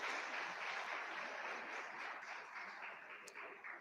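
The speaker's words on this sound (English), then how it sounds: "Parents, kindly give an applause to the super energetic performance of class 9." Parents applaud a super energetic class 9 performance at a St Xavier's ICSE school event in Vasai, a broad, steady wash of clapping from a crowd that holds for several seconds and eases slightly toward the end.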